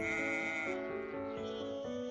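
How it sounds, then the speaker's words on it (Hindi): A goat bleats as a sound effect in a children's story, a sustained, wavering nasal cry that runs for about two seconds, close and fairly loud, with no speech. "एक बार एक बकरी थी।"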